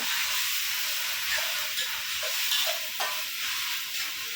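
Ginger and garlic frying in a hot pan, ahead of cooking small fish, give a steady, close sizzle and hiss with a few brief crackles and stirring scrapes, and no talking.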